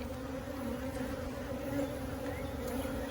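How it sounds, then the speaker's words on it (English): Queenless honey bees mill about in a swarm, making a continuous, fairly faint buzzing hum with no other sounds over it. "these bees over here were just, they didn't know what to do"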